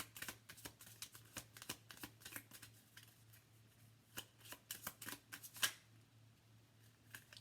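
A tarot card deck being shuffled close up, with repeated quick riffles and flicks in uneven bursts over a low steady hum.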